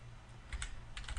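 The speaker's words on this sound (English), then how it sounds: "nice typing there" Someone types on a computer keyboard, producing a quick run of light clicking keystrokes close by over a low steady background hum.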